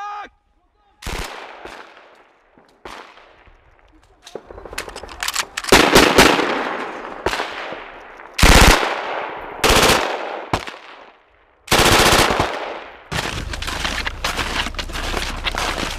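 Gunfire in a NATO large-scale combat training exercise: loud bursts of machine-gun fire and single shots with echoing tails, sustained firing at the end, and some shouted voices in between.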